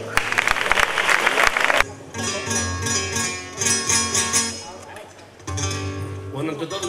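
Applause from the audience at a flamenco contest, dense clapping for a fandango singer with guitarist, lasts about two seconds and then gives way to a guitar playing.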